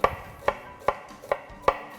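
A knife chops through an onion on a board in five sharp, evenly spaced strokes, close and crisp with no talking.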